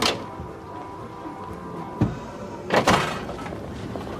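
Someone at a front door makes a few dull knocks and thuds, one single and then a quick pair, close by over steady room noise.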